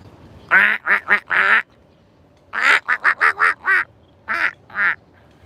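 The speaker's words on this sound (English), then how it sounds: "And look at those ducks." Ducks quack in a Tokyo park in three loud, close bursts of rapid, rhythmic calls separated by brief silences.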